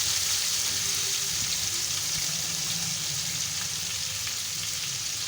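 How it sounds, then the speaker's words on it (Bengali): Tomato frying in oil with whole cumin, cardamom and cloves, a continuous close, even sizzle with no distinct stirring or voices. "টমেটোটা একটু নরম হওয়া পর্যন্ত মশলার সাথে ভেজে নেব।"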